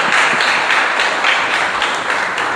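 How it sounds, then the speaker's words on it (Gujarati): An audience applauds to welcome a speaker at a youth book-discussion gathering. The clapping is dense and sustained and fills the room at an even level throughout. "આપણે ફલેસાને જોરદાર તાળીઓથી વધાવીએ."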